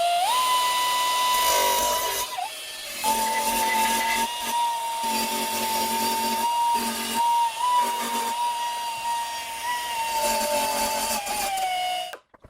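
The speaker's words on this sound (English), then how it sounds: "I have a very small belt sander here, and the nose of it can get down into that tight contour." A very small belt sander smooths a weld on a curvy seat, making a steady, fairly loud high whine with a faint rasp and brief dips as it is lifted off, nearby, with no talk.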